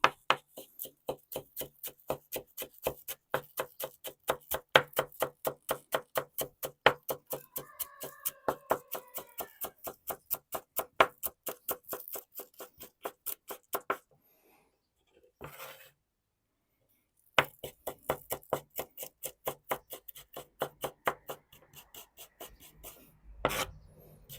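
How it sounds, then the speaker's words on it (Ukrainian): A knife chops fresh dill very finely on a board in fast, steady, rhythmic strokes, close and crisp, with one brief pause partway through before the chopping resumes. "беремо кріп зелень. І рубаємо теж дуже-дуже мілко."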